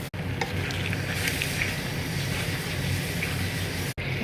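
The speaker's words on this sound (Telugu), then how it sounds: "కడిగి పెట్టిన చికెన్ వేసుకుందామండి" Washed chicken hitting a pan of fried onions and ginger-garlic paste for a chicken curry, with a steady, loud, broadband sizzle that holds for about four seconds, broken by two brief dropouts.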